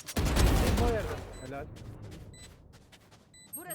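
Gunfire in the tactical shooter Valorant, a loud burst of rapid shots at the start that fades into scattered game effects, with players talking over it.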